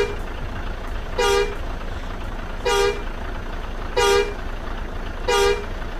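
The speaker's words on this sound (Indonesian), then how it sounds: "di sini kita lanjut di bagian klakson ya. Untuk klakson setir." Steering-wheel horn of a Mercedes-Benz OH1626 bus in Bus Simulator Indonesia, sounding four short, evenly spaced honks over a steady low engine hum, loud and close with no talking.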